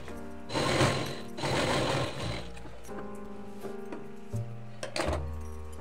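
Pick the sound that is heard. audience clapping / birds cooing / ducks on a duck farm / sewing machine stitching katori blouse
sewing machine stitching katori blouse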